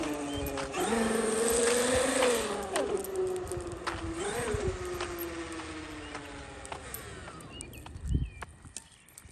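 A Traxxas XRT RC truck drives slowly, its electric motor whining in a rising and falling pitch with rattling and crunching over the ground, the motor fading out midway and leaving scattered knocks and a sharp thump near the end.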